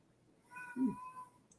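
A cat meowing behind a shut door, a single drawn-out muffled meow, faint and somewhat distant, with a soft low thump in the middle and quiet background hiss.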